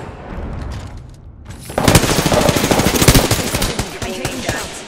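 Automatic weapon fire in the Apex Legends battle royale game breaks out after a short lull, loud rapid bursts of shots crackling continuously to the end.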